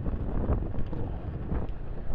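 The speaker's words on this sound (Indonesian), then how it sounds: "Ini angin cukup lumayan dingin juga." Steady wind buffets the microphone during a motorcycle ride through hilly village countryside in Cianjur, West Java, a continuous low rumbling roar with no breaks and no talking.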